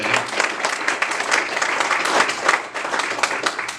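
Audience at a health care forum applauding law enforcement officers, a close burst of brisk, dense clapping that stays fairly even throughout with only slight swells.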